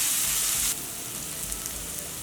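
Onions frying on a high flame with curry leaves and asafoetida, a loud bright sizzle at first that drops to a softer, steady crackle with small pops.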